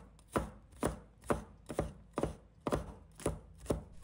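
A knife mincing crushed garlic on a cutting board: eight or nine crisp, evenly spaced chops in a steady rhythm, close and clear with quiet pauses between strokes, no talking.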